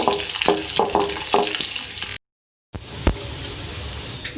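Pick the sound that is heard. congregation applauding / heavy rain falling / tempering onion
tempering onion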